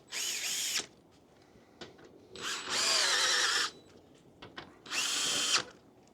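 A power drill drives bolts into an outdoor chaise lounge chair, sounding as three close bursts of whirring separated by quiet gaps with small clicks and handling noises.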